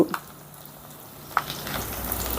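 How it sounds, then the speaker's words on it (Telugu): Onions fry in a pan for a cucumber and potato curry, giving a soft, steady sizzle with a single brief clink from a utensil partway through. "ఉల్లిపాయలు ఈ రకంగా ఫ్రై అయితే సరిపోతుందండి"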